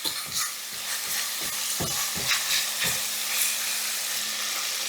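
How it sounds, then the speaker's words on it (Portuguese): Meat browning in a frying pan for a Japanese soup, stirred with a steady hiss and sizzle while a utensil scrapes and knocks against the pan in irregular strokes, close and fairly loud with no talking. "Só mexer tudo muito bem aqui e dar uma boa dourada agora. Mas não precisa queimar a carne, tá?"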